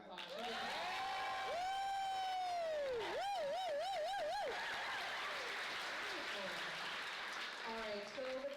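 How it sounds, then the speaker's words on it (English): An audience at a film Q&A in a Philadelphia Film Society theater gives a sustained round of applause, with loud whoops and whistles rising above the clapping throughout. "Let's give them another round of applause."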